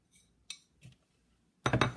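A spoon clinks and scrapes in a large bowl mixing dry spices with almond meal flour for veggie burgers, a few sparse taps followed by a louder burst of stirring.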